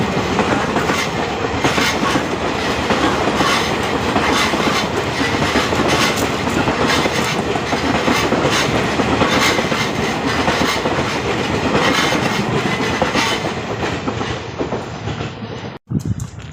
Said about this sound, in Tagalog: Ang haba ng train, no?